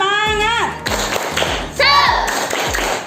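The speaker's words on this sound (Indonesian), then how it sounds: "Kayaknya lesu, tepuk semangat dulu." A school class performs a rhythmic spirit clap, with chanted voices leading into a few sharp, patterned claps and taps in a classroom, the group voices prominent over the beats.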